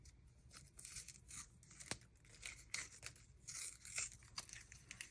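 Coffee-themed washi tape peeled off its roll in a run of short, crackly tearing and crinkling bursts, close and fairly quiet, with a brief sharp snap partway through.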